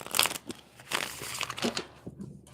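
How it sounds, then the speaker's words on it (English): A Love Oracle card deck is shuffled by hand in close, papery bursts of riffling and crinkling, several quick rustles spaced over a couple of seconds. "I'm going to shuffle these"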